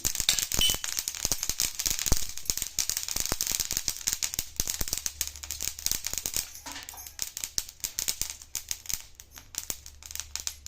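Green chillies crackle and burst while roasting in a hot pan, a dense, steady stream of sharp pops and sizzling crackles close up, with no talk.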